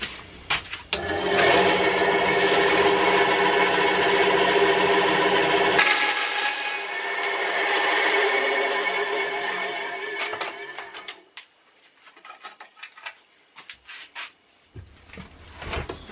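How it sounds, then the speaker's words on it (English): Thin LED strip diffuser strips being cut, a steady close rubbing, sawing rasp lasting several seconds before tapering into scattered scrapes and taps. "Now it's time to cut the strips for the diffuser."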